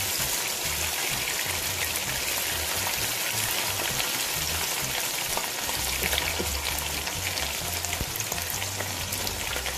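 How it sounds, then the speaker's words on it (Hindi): Continuous crackling sizzle of chicken frying in a pan for chicken karahi, dense and steady, with no voices. "चिकन को अच्छे से फ्राई करेंगे।"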